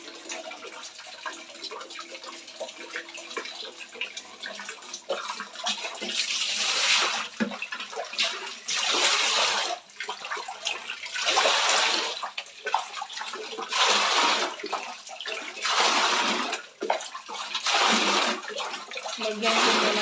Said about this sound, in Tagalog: lagyan ko muna ng tubig ang isa kong langgana